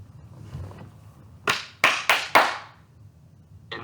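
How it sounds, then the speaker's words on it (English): Four sharp hand claps ring out in quick succession at close range, each followed by a short decay, with quiet room murmur before them. "I want you to clap."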